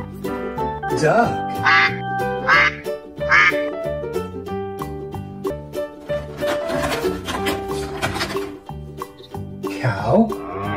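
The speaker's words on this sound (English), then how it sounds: "Duck." A farm animal toy duck gives several nasal quacks in short bursts, loud and close over a cheerful synthesized backing melody.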